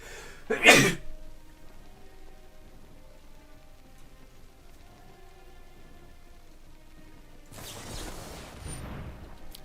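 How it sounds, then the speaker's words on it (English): A single loud, close human sneeze bursts out near the start, then quiet room tone follows, with a soft rustle toward the end. "Gotta sneeze."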